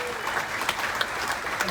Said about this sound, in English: Super big round of applause.